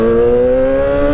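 Yamaha R6 superbike held in first gear, a loud, sustained engine rev with a smooth steady pitch that rises only slightly over a brief moment.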